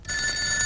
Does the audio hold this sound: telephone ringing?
yes